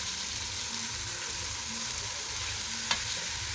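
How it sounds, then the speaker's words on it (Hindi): Potato and eggplant sabzi frying in a pan over medium heat, a steady close sizzle with soft stirring and one brief clink near the end. "इसको मैं कुछ देर फ्राई करूँगी"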